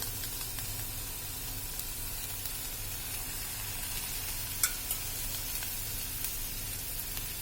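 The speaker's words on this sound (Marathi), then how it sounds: "आता आपण त्याच्यावर तेल टाकून घेणार आहे" Oil poured over stuffed bitter gourds sizzles faintly and steadily in a covered pan, a soft continuous hiss with one small click partway through and no talking.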